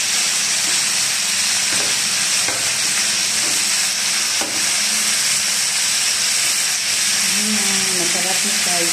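Marinated chicken frying in hot oil, a steady loud sizzle and hiss throughout with occasional clinks of utensils and faint voices in the background.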